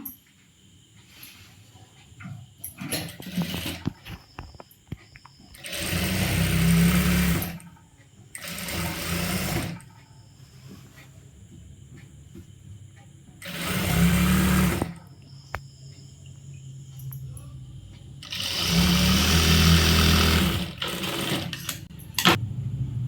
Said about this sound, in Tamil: நான் அப்படியே வச்சு தைக்கிறேன்